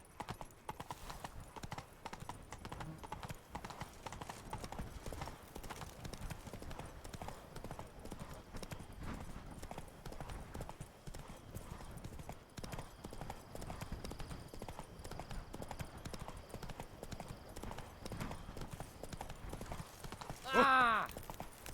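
Hooves of the horse Roach pound in a fast, steady galloping clip-clop through The Witcher 3, continuous and moderately close, with a short whinny or vocal burst near the end.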